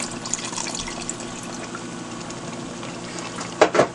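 Half a cup of water is poured into pepper steak sauce, a soft steady pour with a brief louder splash near the end.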